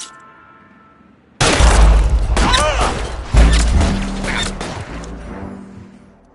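Gunfire erupts in the video game L.A. Noire: a heavy, booming volley of close shots, a pause, then a second loud burst fading out, with some voices underneath.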